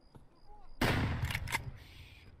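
A short burst of gunfire in Escape From Tarkov, one sharp loud blast followed by a quick second report, near and punchy against a quiet background.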